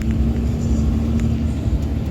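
A Dodge Cummins diesel truck with an 8-inch axle dump exhaust drones in a deep, steady low rumble under acceleration, loud and close, with no talk over it.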